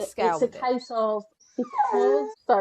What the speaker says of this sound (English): that's my dog being really needy.